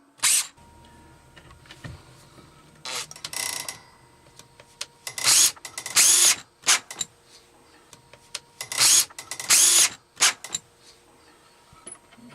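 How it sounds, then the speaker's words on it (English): A power drill drives screws into an attic floorboard in repeated whirring bursts. Each burst lasts about a second and is separated by quiet pauses, with clustered runs in the later half, close and fairly loud. "And he's screwing it back down."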